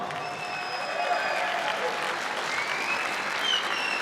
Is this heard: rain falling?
no